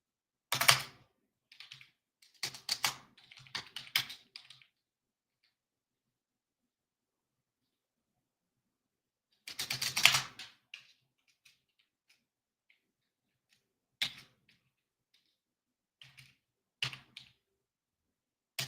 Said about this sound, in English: Come on, one-hand typing.